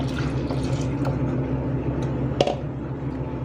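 Cold milk poured into a dissolved gelatin mixture for a Christmas mosaic gelatin, a steady continuous liquid pour at close range with a faint clink partway through.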